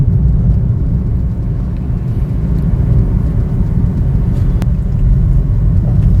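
A 2014 Hyundai Xcent with a 5-speed gearbox cruises on a highway in fifth gear, giving a steady, loud low rumble of engine and road noise that stays even throughout.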